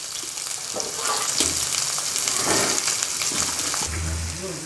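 Finely chopped onions sizzle and crackle steadily in a hot pan, a continuous hissing fry with faint clinks and stirring noises.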